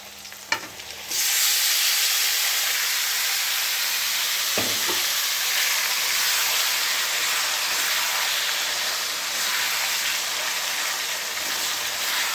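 Meat sizzles and fries loudly in a hot pan, with a steady hiss and occasional scraping stirs, close up and without talk.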